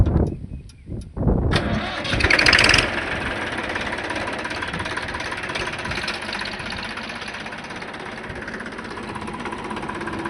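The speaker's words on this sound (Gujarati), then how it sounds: "જોઈ શકો છો તમે ટ્રેક્ટર ઉલળતું જાય જો" A tractor engine sputters to life and settles into a steady, throaty idle that runs on close by.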